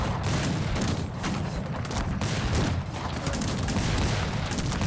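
Massed cannon volleys and battle din from a large Cossacks 3 multiplayer fight, a dense, continuous roar of overlapping booms and gunfire with no clear gaps, loud throughout.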